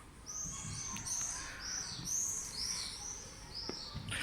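Young birds, pigeon chicks, chirp with repeated high, thin calls in a steady series, close by, with faint background noise and occasional soft knocks.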